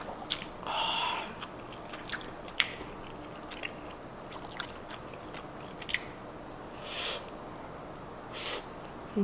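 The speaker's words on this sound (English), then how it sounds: "First bite has to be the longanisa" Close, quiet chewing of a bite of Filipino longanisa sausage dipped in spicy vinegar, with moist squishy bites and a few louder crunchy bursts.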